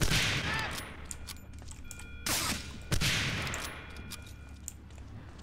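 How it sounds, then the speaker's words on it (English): Gunfire crackles through a World War II shooter battle in Medal of Honor Allied Assault, with two sharp nearby shots standing out against a steady backdrop of distant rifle and machine-gun fire. "I try and shoot this guy in the head."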